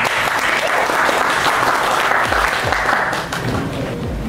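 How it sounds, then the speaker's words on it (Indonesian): Loud, dense audience applause at a corporate upskilling and sharing event in Solo, Indonesia, a continuous crowd of clapping hands that fades slightly near the end. "mohon tepuk tangan"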